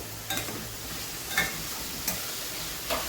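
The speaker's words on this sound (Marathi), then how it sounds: "आता आपण हा कांदा परतून घेणार आहोत" Chopped onion being sautéed in a pan on medium heat for Mumbai-style masala pav, a soft steady sizzle with a few light clicks of a spoon stirring at intervals, close and without talk.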